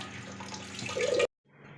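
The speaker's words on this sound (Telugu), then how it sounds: "లూజ్ అయిపోయి వాటర్ అంతా కొంచెం లీక్ అయిపోతున్నాయి" Water gushing steadily from a loose tap in a kitchen sink, building slightly louder before cutting off abruptly, followed by quieter background hiss.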